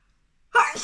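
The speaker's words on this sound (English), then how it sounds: "oh, I'm gonna sneeze again." One abrupt, loud human sneeze close to the microphone after near silence, with a short trailing breath.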